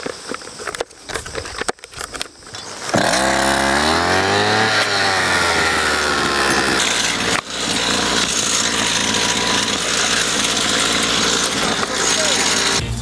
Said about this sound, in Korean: 초기에 시동을 걸고 본격적으로 풀베기를 시작하는 김남현 대표.